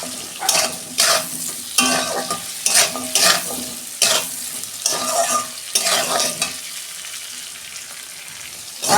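Potatoes fry with onion in a pan, sizzling while a utensil stirs and scrapes them in repeated rhythmic strokes, close and fairly loud.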